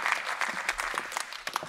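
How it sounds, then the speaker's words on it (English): Conference audience applauding Ebba Busch at an event on European competitiveness in advanced therapies, a steady burst of many hands clapping together with some louder individual claps. "Let's give Ms. Ebba Busch a great applause for this."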